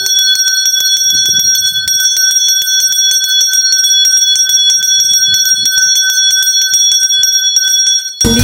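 A school hand bell rings continuously and loudly for about eight seconds at a first-day-of-autumn school celebration, with bright sustained ringing tones and faint background voices underneath.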